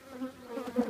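Honey bees buzzing near an opened brood chamber during a hive inspection, a brief, faint, wavering hum with a few pitch shifts as individual bees pass close.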